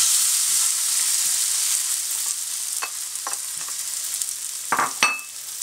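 Plantain pieces frying in olive oil in a pan over medium heat give a steady, close sizzle, broken by a few sharp clinks and scrapes of a utensil toward the end.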